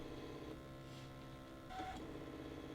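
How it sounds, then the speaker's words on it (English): A Brother ScanNCut machine cuts out a strawberry shape along its outline, giving a steady, fairly faint motorized hum with small shifts in pitch and no talking. "the machine's going to come down to this strawberry and automatically just cut her right on the line"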